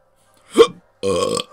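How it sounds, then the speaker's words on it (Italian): A short gulp or hiccup-like catch is followed by a loud, rasping burp lasting under half a second, then a tiny trailing blip, all isolated against silence. "Singhiozzo e rutto, combo pazzesca."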